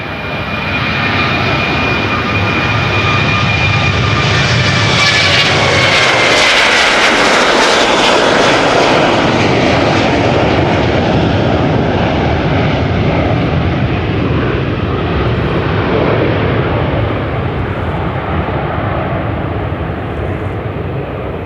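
A KLM Boeing 737-800 departing Amsterdam Schiphol roars loudly and close, a sustained jet-engine blast that swells as it passes and slowly fades while climbing away, with no voices.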